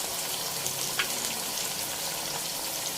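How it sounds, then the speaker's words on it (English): A splash of water goes into a sizzling pan of Thai minced beef stir fry (pad kra pao), a steady hiss and bubbling at moderate level with no talking. "Stir fry, and you can add in about 2 tablespoons of water."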